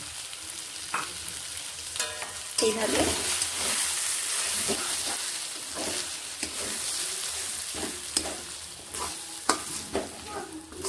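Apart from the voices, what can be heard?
stirring green pea paste frying in a pan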